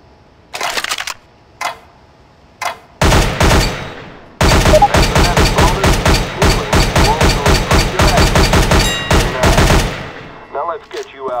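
Rapid automatic gunfire from a weapon in CS:GO on PS3, shot at a target on a weapons course: a few short separate shots, then long loud sustained bursts of quick rhythmic shots, close and without talk.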